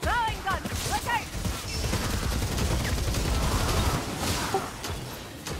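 A Ratling gunner fires in Warhammer: Vermintide 2 on a forest map, with rapid continuous gunfire rattling over several seconds amid game noise and brief voices.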